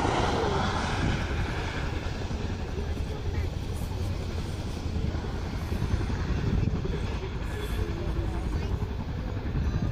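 RAF Chinook tandem-rotor helicopter coming in to land during an air day display at Yeovilton, a loud steady roar of rotors and engines throughout, with faint commentary underneath.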